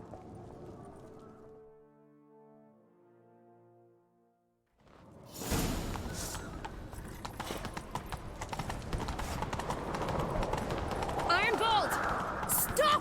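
Horse hooves clip-clopping at a gallop in The Witcher 3, a dense rapid beat that starts suddenly after a soft musical passage and continues loud and close, with whooshing movement over it.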